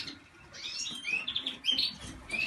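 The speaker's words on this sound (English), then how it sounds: "Then I start with my green finches." Several greenfinches chirp and twitter in quick, overlapping calls, fairly close, over a soft rustling background.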